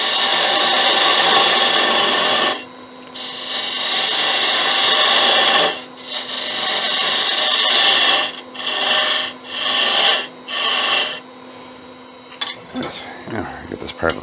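A skew chisel shears wood on a spinning lathe while a pizza cutter handle is being turned, giving loud, close rasping cuts in several sustained passes broken by brief gaps, ending with lighter scraping touches.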